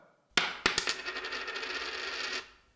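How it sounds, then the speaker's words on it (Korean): A coin dropping onto a hard surface: a few sharp metallic clinks, then a ringing, spinning rattle that fades after about two seconds, heard alone and fairly quiet. "네, 동전 같은 것이 떨어지는 소리였죠"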